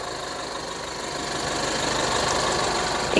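An Isuzu D-Max 1.9 diesel pickup engine runs at idle, giving a steady, fairly loud broadband rumble with a faint knocking texture that builds slightly over a few seconds, with no talk.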